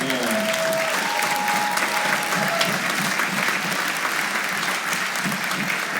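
A hall audience at a TIFF film Q&A applauds the film's score, with sustained, thick clapping throughout and a faint whistle-like tone and some voices mixed in near the start.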